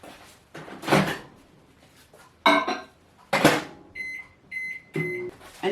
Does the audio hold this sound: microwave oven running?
yes